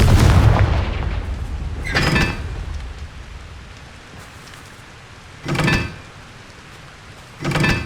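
Spell explosions from Bombarda and Confringo in the video game Hogwarts Legacy, heard as a loud opening blast followed by three sharp bursts spaced a couple of seconds apart over a low rumbling game ambience.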